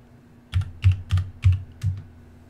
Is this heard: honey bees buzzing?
no